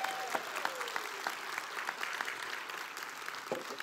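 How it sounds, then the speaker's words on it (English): A church congregation gives quiet applause during a service, a soft, steady patter of clapping with a few sharper individual claps standing out. "How about just a round of applause for this beautiful lady?"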